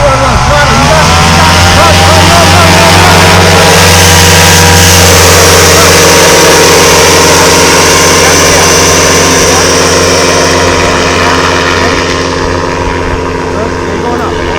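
A paramotor engine roars at full throttle during takeoff, a loud steady propeller drone filling the whole stretch, with an instructor's voice calling over it.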